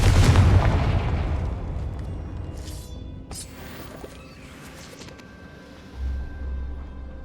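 A Confringo fire spell from the Hogwarts Legacy video game bursts with a loud booming blast at the start, its rumble decaying over several seconds, followed by a few softer magical cracks and a low rumble near the end.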